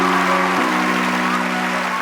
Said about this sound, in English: a big round of applause for Tring